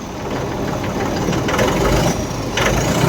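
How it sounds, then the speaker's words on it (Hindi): A Sonalika 8-model tractor with a turbo and a low oil level idles nearby. The engine gives a steady, fairly quiet low rumble with a slight knock that runs through the whole clip, and no one talks over it. "बहुत साइलेंट आवाज़ है ट्रैक्टर की,"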